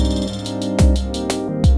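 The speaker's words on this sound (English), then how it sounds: "What I have on the table is the Octatrack, a model cycles, and out of the picture is a 7U system of modular." Octatrack, Elektron Model:Cycles and a 7U modular synth system playing live together: sustained droning tones with a low pulsing bass, punctuated by two heavy kick-like hits and bright noisy bursts, loud and close.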